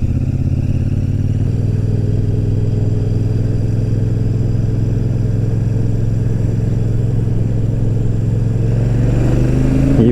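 Royal Enfield Super Meteor 650 motorcycle engine, a steady loud low parallel-twin drone at cruising speed that rises slightly near the end as it accelerates, with wind noise.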